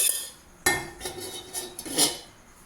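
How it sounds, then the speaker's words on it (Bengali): Gobindobhog rice kheer being stirred in a pot as it boils, with a few sharp metallic clanks of a spoon against the pot and a soft scraping between them. "আর দিয়ে এটা আমি সেদ্ধ করে মাঝে মাঝে আমাকে নাড়তে হবে"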